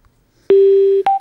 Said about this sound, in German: der piept jetzt, weil er keine Verbindung hat zum Handy oder zu irgendeinem anderen Bluetooth-Gerät